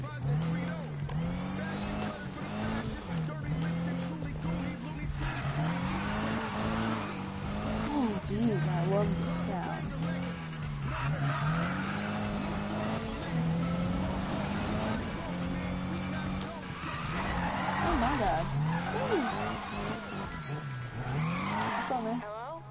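In a Need for Speed race, a supercharged car engine drones and revs in rising and falling pitch while tires squeal in skids, with a voice talking over the action.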